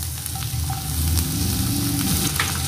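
Onion, green chillies and curry leaves sizzle steadily in hot coconut oil, a loud continuous frying crackle that swells slightly as the ingredients go in, with faint stirring and no talk.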